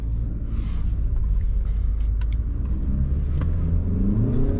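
A car accelerating at full throttle, its engine rumbling and revving loudly and steadily from start to finish with no voices over it.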